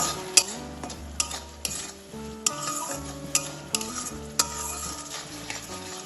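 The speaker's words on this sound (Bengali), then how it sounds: "মশলাটা ভালোভাবে তেলের সাথে কষিয়ে নেব।" Ground coriander, cumin and black pepper with salt fry in hot oil while a spoon stirs them, a soft steady sizzle punctuated by repeated sharp metallic clinks against the pan, close up with no talking.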